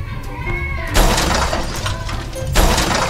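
Cars smash and crash in a car crash stunt demolition video game, with two loud impact bursts of crunching metal and shattering debris over a steady engine drone.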